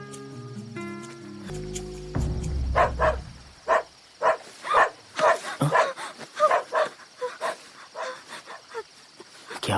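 Dog barking in a Hindi-dubbed South Indian film, a run of about a dozen sharp, fairly close barks in uneven rhythm following a musical passage, with no talk over them.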